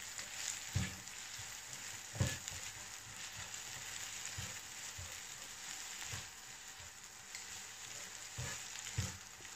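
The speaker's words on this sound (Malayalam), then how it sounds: "ഇതൊന്ന് നന്നായിട്ട് നമുക്ക് ഇതിലേക്ക് ചേർത്തെടുത്ത് ഒന്നിങ്ങനെ ഫ്രൈ ചെയ്തെടുക്കാം" Shrimp, pineapple and egg fried rice cooks in a pan with a soft, continuous sizzle, punctuated by faint periodic taps and scrapes of stirring, with no voices.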